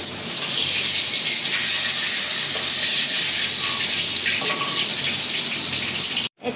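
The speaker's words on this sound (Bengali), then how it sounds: "এই তেলে আমি পেঁয়াজ দিয়ে দিলাম।" Sliced onions hitting hot oil left over from frying fish, giving a loud, steady, hissing sizzle that holds for several seconds before cutting off abruptly, with no talk.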